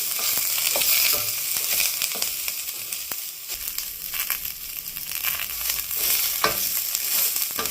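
Banana flower frying in a pan for chutney, a steady crackling sizzle with scattered stirring scrapes close by, no voices.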